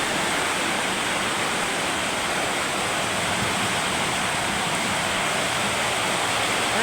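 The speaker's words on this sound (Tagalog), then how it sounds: "Napakalakas ng buhos ng ulan." Heavy rain pours down in Dasmariñas, Cavite, a steady, dense roar of broadband hiss that holds constant throughout with no voices.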